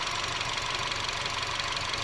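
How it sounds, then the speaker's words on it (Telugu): A Mini Cooper engine with about 45k on it idles steadily during a carbon cleaning treatment, a continuous even hum with a faint knocking texture and no voices over it. "సో మనం ఇంజన్లో చాలా కూల్ నాయిస్ అనేదాన్ని మనం అబ్జర్వ్ చేయొచ్చు"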